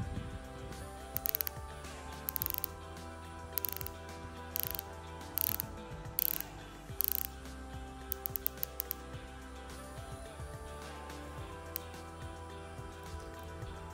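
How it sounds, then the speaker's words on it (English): A 60-click unidirectional bezel on a Tudor Black Bay 58 Bronze watch is turned, giving soft, quiet ratcheting clicks in short bursts over a faint background hum. "It is a 60 click unidirectional bezel, so let's check out the bezel action right now."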